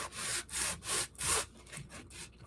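A block sander is rubbed back and forth over a puttied patch on a layout: three strong, even strokes, then several lighter, shorter passes, close and clear.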